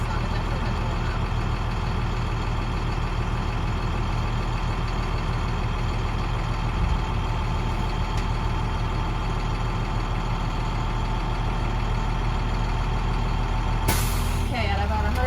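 A bus engine idles with a steady, loud rumble while its air brake compressor builds pressure to a 122 psi cutoff, ending in a brief sharp burst of hiss near the close.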